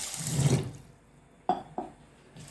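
A short splashing pour of water over rice and moong dal, rinsing them for khichdi, fades out, followed by two sharp clinks or knocks against the vessel.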